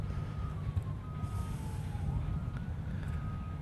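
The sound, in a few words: emergency vehicle sirens outside the airport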